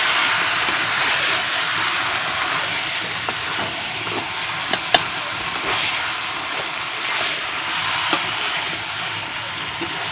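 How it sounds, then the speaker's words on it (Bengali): Desi chicken meat going into a pan of spice paste, cooking in a steady, loud broadband sizzle with faint scraping clicks now and then and no talk. "তো এখন আমি মাংসটা দিয়ে দেবো। দিয়ে এখন সুন্দর করে ঢেকে ঢেকে কষিয়ে নেব।"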